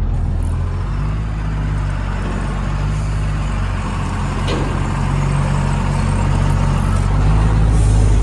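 A loaded truck rolls toward a valley with a steady low engine rumble and road noise, continuous and close, no voices.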